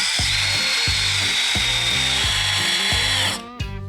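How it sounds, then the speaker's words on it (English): Power driver backing out two T40 Torx screws from the outer fairing of a 2018-2024 Harley-Davidson Fat Bob, a loud steady whir with rhythmic ratcheting pulses, close up and ending abruptly. "So we're going to remove these 2 T40s"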